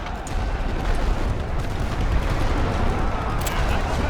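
Suppressive gunfire and artillery in the World War I strategy game Great War Western Front form a dense, continuous rumble of overlapping blasts, loud and unbroken throughout.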